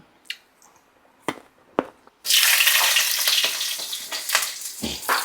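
Mustard seeds spluttering and popping in hot oil: a few sharp isolated pops, then a sudden loud, dense crackling sizzle that continues close up with scattered bursts.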